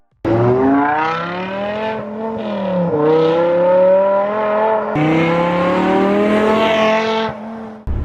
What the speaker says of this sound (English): That engine note is just out of this world.